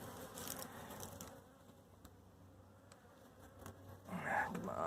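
Honey bees swarm loudly around an opened, agitated colony that is being fed in the open and has no queen. The buzzing hum is dense and close, swelling stronger near the end.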